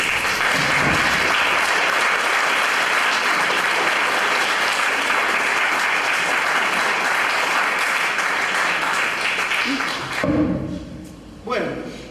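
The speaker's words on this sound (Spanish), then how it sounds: "Denle un aplauso al Señor." A church congregation breaks into sustained, dense clapping that fills the room at close range, then tapers off near the end as a voice starts speaking.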